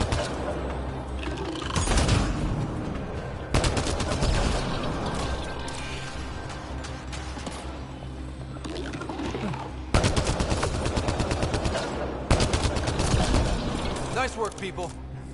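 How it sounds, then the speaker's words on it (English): Video game gunfire rattles in rapid, loud machine-gun bursts and single shots, with a few short breaks. Voices are heard now and then among the shots. "Why is he shooting like that?"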